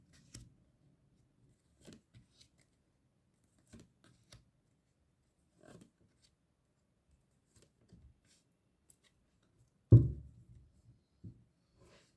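Tarot cards being shuffled by hand make sparse, soft riffling flicks and taps with long quiet gaps between, plus one sharper louder slap near the end, all close and quiet.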